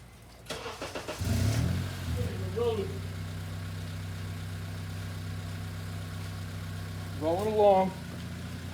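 A car with an abrupt engine shutdown fault cranks briefly, catches and settles into a steady, close idle, while a couple of short voice sounds rise over the running engine.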